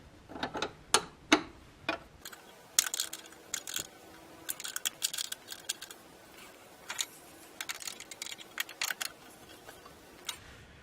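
Metric sockets on a ratchet working on the front brake lines of a Mazda Miata during a stainless steel line install: sharp mechanical ticks and clicks in uneven bursts, close by, with scattered clacks and no talking.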